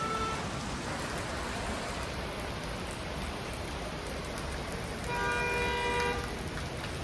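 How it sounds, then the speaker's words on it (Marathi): Steady rain falls over the Nainital hills, a dense even hiss on surfaces throughout, with a vehicle horn tooting briefly near the end. "आता पाऊस कमी झालेला"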